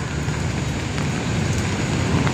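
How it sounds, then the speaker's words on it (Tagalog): Heavy rain pours steadily and loudly by the Pasig River at the Esplanade near Lawton ferry station, a dense, even hiss with no voices over it. "Lakas ng ulan, grabe."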